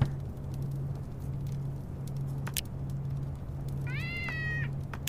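A cat in the video game Starbound gives a single short, rising meow near the end, heard over a steady low game hum and scattered clicks.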